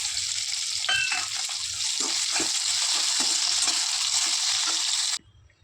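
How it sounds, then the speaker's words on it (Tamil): Sliced onion and two tomatoes frying in oil for an egg curry, a steady close sizzle with occasional stirring clicks and scrapes, cutting off abruptly near the end. "வெங்காயம், ஒரு 2 தக்காளி எண்ணெயில் வதக்கிக்கலாம்"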